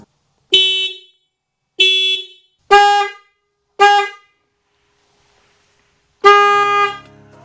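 A loud, bright Denali Sound Bomb Mini electric horn on a Honda Transalp motorcycle honks in four short blasts, followed by a pause and one longer final honk, nearby and clear.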